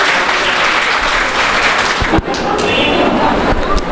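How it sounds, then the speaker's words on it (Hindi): Loud, dense applause from a crowd at a Hindi-language community gathering, steady and continuous for several seconds with a brief dip midway, a few thuds within it. "एक बार उनके लिए जोरदार तालियां।"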